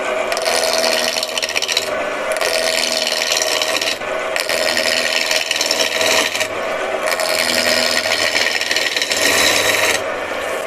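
Gouge cutting wood on a lathe, a loud, close rasping scrape in repeated passes of about two seconds, broken by short pauses as the tool lifts, with no talk.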